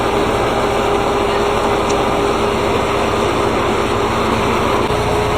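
A Farmall 400 tractor's old engine idles continuously, a steady, rumbling low mechanical drone with even pulsing and no voices.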